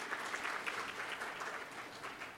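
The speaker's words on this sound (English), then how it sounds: "Would you please give Galina another round of applause" A round of audience applause at a storytelling event, steady dense clapping from a crowd that holds at an even level throughout the short stretch.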